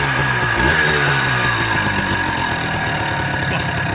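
A 1980s Gilera KZ motorcycle engine, sitting unused for a few months, catches and runs with a steady, loud idle, its rapid firing pulses rumbling close up and briefly revving near the start.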